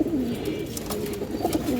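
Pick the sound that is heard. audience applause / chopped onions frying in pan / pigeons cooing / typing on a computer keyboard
pigeons cooing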